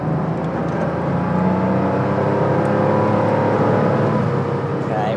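A Porsche 911 Sportomatic with a Carrera 3-litre flat-six engine accelerating, a loud, close, rising engine drone building steadily in pitch as the car picks up speed.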